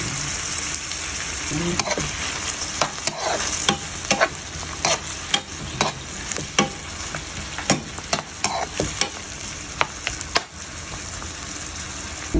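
Dried fish (tuyo) sizzles steadily in a hot pan while a utensil stirs it, scraping and clacking at irregular intervals over a constant frying hiss, close up with no talking.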